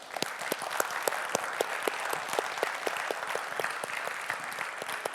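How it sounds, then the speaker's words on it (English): Seminar audience applauds the participants with distinct, fairly sparse claps that form a steady, moderate round of clapping heard from within the hall, with no talking. "Give them a big hand of applause"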